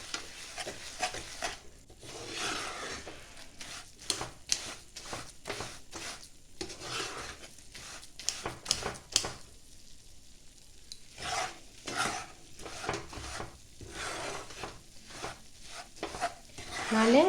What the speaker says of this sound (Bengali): এবার গ্যাসটাকে আমি বন্ধ করে দিলাম, দিয়ে কন্টিনিউ এইভাবে নাড়াচাড়া করতে হবে।